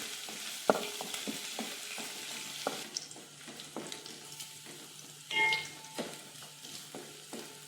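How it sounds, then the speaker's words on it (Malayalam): Small onions sauté in hot oil for a sardine curry, giving a soft, steady sizzle broken by frequent sharp spoon scrapes and clinks against the pan. "ചെറിയ ഉള്ളി ഇതിലേക്ക് ചേർത്ത് നല്ല പോലെ വഴറ്റിയെടുക്കണം."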